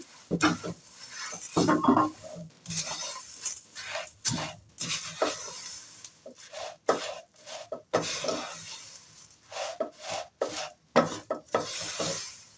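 Dry-roasted puffed rice being tossed and mixed quickly in a pan for murmura chikki, with repeated rustling, scraping bursts and spoon knocks in an irregular, close rhythm, a single cough partway through.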